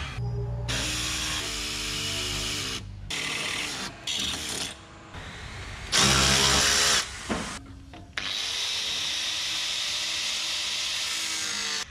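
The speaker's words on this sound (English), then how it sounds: "drill four holes and then cut it out with a little body saw" A small reciprocating body saw cuts through sheet metal on a 105 series Landcruiser, loud rasping bursts of cutting separated by short pauses, close up, with one harsher, higher-pitched stretch midway.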